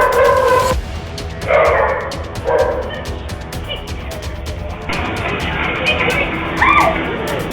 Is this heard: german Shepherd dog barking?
yes